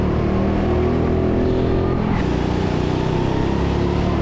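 Indoor go-karts race at TeamSport Sheffield, a kart engine droning loud and close throughout with steady revving and a brief shift in pitch midway, other karts ahead on the track.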